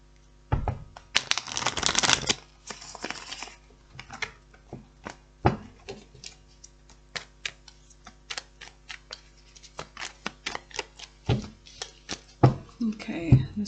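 Tarot and oracle cards being shuffled close up, with a quick crisp riffle near the start followed by scattered light clicks and taps as the deck is cut and handled.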